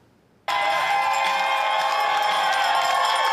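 A crowd cheers as a 55-year-old Belgian marathon runner crosses the finish line of his 366th consecutive marathon. A loud, sustained roar of voices breaks in suddenly after a brief quiet moment and holds steady to the end.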